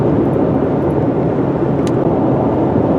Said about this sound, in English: The whooshing noise you hear is from the air conditioner because it's a bit hot today and I have the fan on.